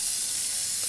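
Cooked noodles rinsed under cold running water in a kitchen sink, a steady close hiss of splashing water with no talk.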